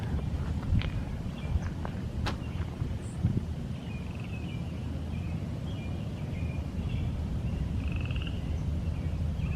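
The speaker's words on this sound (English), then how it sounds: "I don't see any ducks in these ponds, but I hear a lot of frogs." Frogs croaking in the background around ponds in Iroquois Park, a low steady chorus with occasional sharper croaks and clicks, outdoors on a sunny spring morning and fairly faint.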